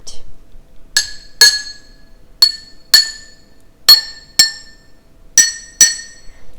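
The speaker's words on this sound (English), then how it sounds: "we are going to take our metal spoon again and just clink on them" A metal spoon strikes glass jars filled with coloured water, giving eight bright, ringing clinks at an uneven pace, each one decaying quickly into silence.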